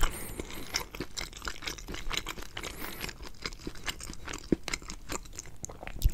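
Close, soft chewing of Chuck E. Cheese pepperoni pizza: moist, squishy mouth sounds and small crunches in an irregular rhythm, quiet and intimate with no talking.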